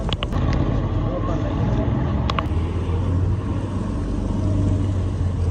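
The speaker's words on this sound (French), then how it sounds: "Et là-bas, il y a une corvette qui arrive." A Corvette sports car approaches on a Monaco street, its low engine rumble swelling steadily over busy ambient noise and a couple of sharp clicks, with people chatting nearby.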